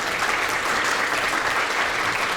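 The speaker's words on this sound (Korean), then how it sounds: "우선 박수로 환영해 주시죠." An audience at a university book talk claps steadily in welcome, a dense even patter of many hands filling the room without pause.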